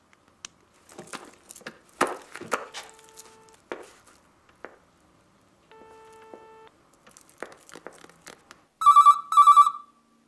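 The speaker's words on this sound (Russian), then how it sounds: "Телефон." A telephone rings in two bursts of bright electronic trills near the end, loud and close, after a stretch of scattered indoor clatter and faint tones in a quiet room.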